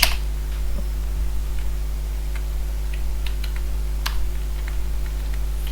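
Keys tapped on a computer keyboard while entering a telnet command, sparse light clicks over a steady electrical hum, close and fairly faint.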